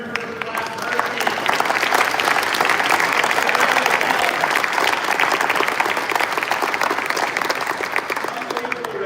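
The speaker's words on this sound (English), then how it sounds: "Can we get a big round of applause for Aaron First Class Murphy?" Large audience at a fighter squadron change of command ceremony applauding an airman after the national anthem, steady dense clapping that swells and holds for several seconds, loud and full, with faint voices mixed in.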